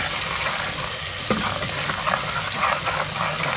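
Turmeric powder being stirred into onions frying in oil for a degi-style chicken shahi korma, with a steady loud sizzle and scraping stir strokes throughout, no talking.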